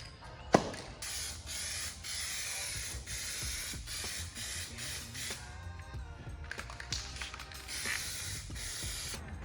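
Clear coat paint is sprayed from a spray gun onto a car bumper. It makes a steady, fairly faint hiss with a few small clicks and some mechanical noise beneath it, and it continues throughout.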